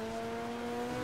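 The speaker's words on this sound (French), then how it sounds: "J'ai fait un sale bruit quand même, la bagnole." A car in Grand Theft Auto V drones with a steady, loud engine tone over rough road and tire noise, running continuously without a break.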